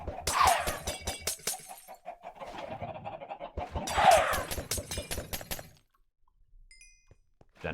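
Chickens cluck and squawk in Minecraft during a hardcore survival game, a dense run of rapid clucks and clicky game sounds in two loud bursts, then near silence.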